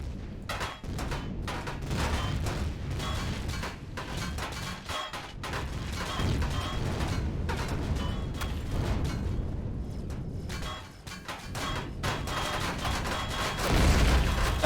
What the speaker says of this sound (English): You were shot by a legacy Eradicator